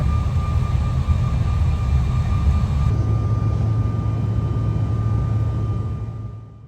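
A steady, loud roar of airplane cabin noise runs throughout a flight to DC, with a constant low rumble and a thin tone, then fades out at the end.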